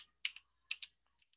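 Typing on a computer keyboard while entering a word into a spreadsheet cell: a few close, crisp key clicks grouped in pairs, with quiet gaps between them and no talking.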